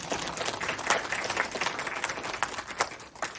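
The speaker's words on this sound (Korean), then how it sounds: "박수 한번 쳐주세요" Applause from an audience at a university social welfare department workshop lecture, dense steady clapping from many hands lasting throughout, fairly close and even.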